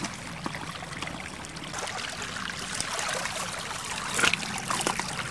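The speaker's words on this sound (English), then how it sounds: "It's another stream. Wow. Looks like it goes down to the main stream." Water trickles and burbles steadily in a small woodland stream in winter, a soft continuous babble close by with a few brighter splashes toward the end, no voices.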